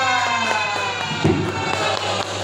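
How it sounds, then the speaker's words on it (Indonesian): Students in a classroom cheer and shout for a student group, the voices loud, high and sustained, with a few thumps and claps mixed in. "Tepuk tangan untuk kelompok 2"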